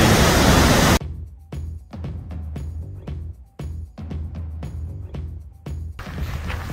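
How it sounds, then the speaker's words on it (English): A small waterfall at Thingvellir in Iceland gives a steady, rushing roar at the start and end, broken in between by choppy, gusty bursts of noise. "here we are on the edge of the small waterfall and we can see it fall down and then disappear there"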